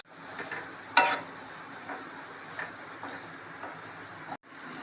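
Yogurt mixed with masala is poured onto potatoes frying in a pan for dum aloo biryani, giving a steady low sizzle with a short louder burst near the start and small clatters.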